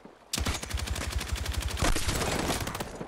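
Rapid automatic gunfire in the video game Battlefield 6 battle royale: a sustained, loud burst of evenly spaced shots that runs almost the whole time, with a brief change partway through before firing continues.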